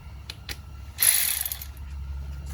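A ratchet tightening a 12 mm nut on the starter of a 2003 Nissan Altima 3.5 SE, a quick burst of close clicking that follows a couple of faint taps, under a low background hum.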